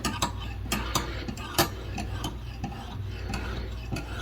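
Knife blade drawn in repeated honing passes across a Lansky sharpening system stone, a series of short, quiet rasping strokes in a steady rhythm, close and alone.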